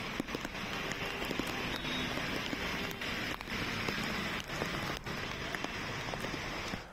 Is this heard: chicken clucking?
no